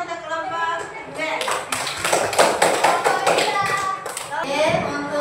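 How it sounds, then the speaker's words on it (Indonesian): Classroom applause for the second group of pupils, a burst of many hands clapping that swells after a quieter start and continues steadily for several seconds, with children's voices mixed in. "tepuk tangan untuk kelompok kedua"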